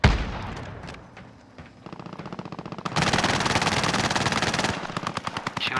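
Rapid automatic gunfire from Call of Duty: Modern Warfare, a battle royale match with enemies shooting from a house below a rooftop, with bursts that start sparse and build into a loud, dense, sustained rattle before tapering into scattered shots.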